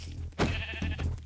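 A sheep bleats in Minecraft with the AnimColle Legacy mod on version 1.12.2: one short nasal bleat near the start, followed by a few softer bleats, close and clear with no speech.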